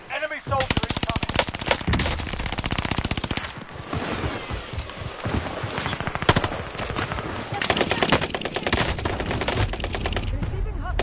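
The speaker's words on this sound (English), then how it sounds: "Receiving hostile fire. I'm in their sight." Enemy soldiers' gunfire in a video game, dense bursts of rapid automatic fire rattling almost continuously, loud and close, with brief lulls and overlapping shots throughout.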